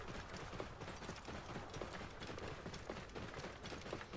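Hoofbeats of a mount trotting in the video game Assassin's Creed Origins, a quiet, continuous clip-clop over a soft background wash.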